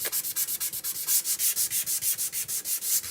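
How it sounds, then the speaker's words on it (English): Steady back-and-forth sanding of painted wood, rhythmic scratchy strokes about six per second, close and fairly loud, with no voices. "So I can sand that and just take a little bit of that ink off"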